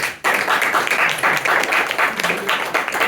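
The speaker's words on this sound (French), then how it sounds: "Je propose qu'on applaudisse" An audience claps after a mathematics lecture, a dense, steady burst of applause close by that begins abruptly and continues throughout.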